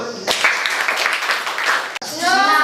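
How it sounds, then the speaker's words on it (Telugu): A classroom of government school children clapping together, a loud dense burst of hand claps close by that cuts off abruptly, followed by a voice speaking. "గుడ్ క్లాప్స్ అందరూ"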